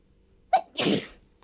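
A single sharp sneeze, a quick inhaled catch followed by a burst of breathy release, close and alone in a quiet room.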